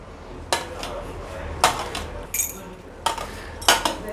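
Metal lid set onto a pot of tomato rice in a home kitchen: several sharp clinks and clatters spaced about a second apart, close and fairly quiet against a low background hum.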